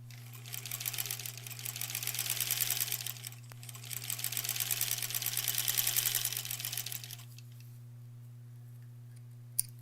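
A sewing machine stitches quilt border pieces for a granny squares quilt in two long, even runs with a brief pause between them. A steady low hum continues underneath, and the machine stops near the end.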